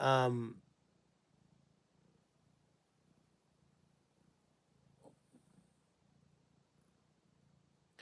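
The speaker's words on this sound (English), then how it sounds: "Do you hear her purring? She just sits on my shoulder and purrs." A cat purrs softly and continuously up close, a low rumbling drone after a brief louder sound at the start.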